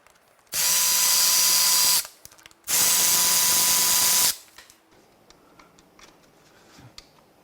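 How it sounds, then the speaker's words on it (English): A power ratchet loosens parts during a Ford 4.6L modular 2-valve engine teardown, letting out two loud, sustained whirring bursts of about one and a half seconds each, followed by faint clinks and shuffling. "Let's see if we can get our power ratchet in there."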